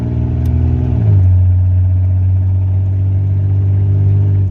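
A 1983 Buick Regal engine runs steadily and close after new spark plugs and wires, first revving briefly then dropping to a smooth, even idle hum with no talking.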